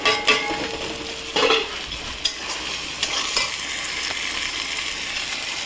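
Meat being fried with turmeric, chilli, salt, coriander, cumin and Kashmiri chilli powder for mutton curry, stirred with a spatula: close scraping and clinks against the pan over a constant sizzle, no voices.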